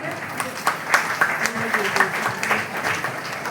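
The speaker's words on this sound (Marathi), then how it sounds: "त्यासाठी टाळ्या व्हायला पाहिजेत." Applause from a seated audience at a women's wellness session hall, a steady patter of many hands lasting a few seconds, with faint speech-like tones mixed in underneath.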